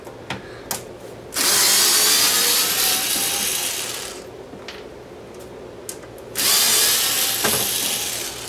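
Two long bursts of a power driver whirring as it runs screws into a cassette deck's cover, Sansui SC1110 Direct-O-Matic, with brief clicks and handling noises between them; no voices.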